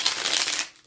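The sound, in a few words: shuffling tarot cards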